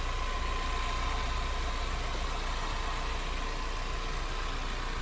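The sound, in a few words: 2020 Ford Mustang convertible engine idling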